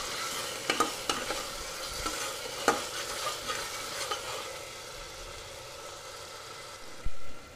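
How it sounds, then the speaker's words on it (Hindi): Tomatoes and green chillies fry in a pan for sprouts khichdi, a steady broadband sizzle with several sharp stirring clacks of a spoon against the pan, the scraping peaking near the end. "टमाटर को एक मिनट भूनेंगे।"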